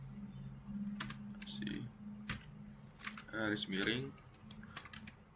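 Keys clatter in quick, uneven bursts as a command is typed on a computer keyboard, close and fairly quiet, while a person talks over the tapping.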